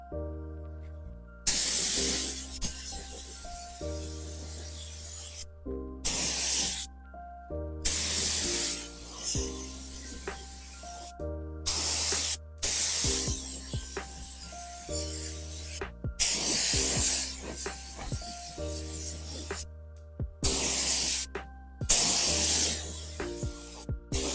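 A spray gun lays paint on the doors and door jambs of a Toyota Supra MK3, heard as loud, close hissing bursts of several seconds each, broken by short silent gaps, over a low steady compressor drone.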